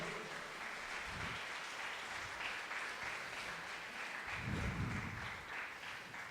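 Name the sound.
church congregation applause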